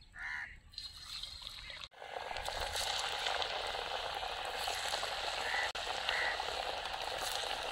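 Cabbage tikki fries in oil over a low flame, a steady, close sizzle and crackle that continues throughout after a brief quieter start, with small pops and stirring sounds.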